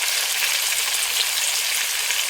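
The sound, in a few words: curry sizzling while being sautéed in a pan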